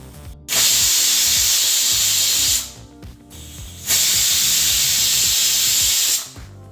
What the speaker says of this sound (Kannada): ಈ ಕುಕ್ಕರ್ 2 ವಿಸಲ್ ಬಂದಾಯಿತು.